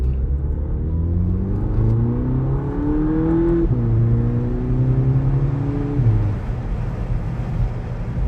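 A 2019 VW Polo GTI with a 2.0 DSG engine of 147 kW accelerates hard, its muted growl rising in pitch through two quick gear changes, heard close from inside the car.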